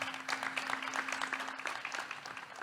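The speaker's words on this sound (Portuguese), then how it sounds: "Uma salva de palmas para o deputado" Applause from a forum audience at an infrastructure and competitiveness event, greeting a deputy: a steady, fairly quiet wash of many hands clapping for a few seconds, with a faint constant hum underneath.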